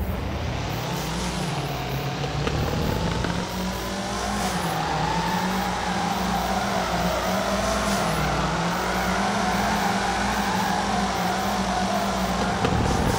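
In the FR Legends video game, a drift car with a heavily modified stock motor holds a loud, continuous engine drone whose pitch rises and falls as it drifts around the Drift Park C route, with faint tire noise and no speech.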